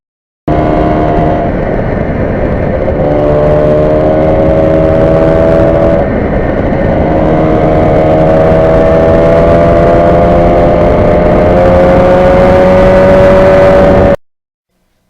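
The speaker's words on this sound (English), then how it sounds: "so much fun to go through the gears, and that sound of being a two-stroke" A 1977 Yamaha RD400 two-stroke motorcycle engine revs loud and close, its buzzing pitch climbing through the gears, with a brief dip midway before cutting off near the end.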